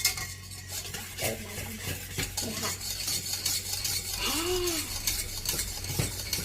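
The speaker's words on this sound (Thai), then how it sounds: "ตีตีคนๆนะคะ ให้เขาละลายนะคะ แล้วก็มาคนแป้งนะคะ เปิดไฟอ่อนนะคะ" A flour-and-water mixture for kimchi is stirred in a pot over low heat, a steady scraping swirl with occasional light clinks of utensil against metal, close and continuous with no talking.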